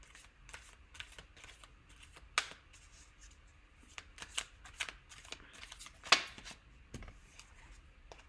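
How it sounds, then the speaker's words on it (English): Tarot cards are shuffled by hand in a quiet room, a faint run of soft riffles and papery slaps with a couple of sharper card snaps, close and unaccompanied by talk. "Pre-shuffling."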